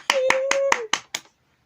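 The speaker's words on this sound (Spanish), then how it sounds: "quiero dar mis debidos aplausos" Six quick hand claps in an even rhythm, close and loud, with a sustained tone ringing under the first few claps.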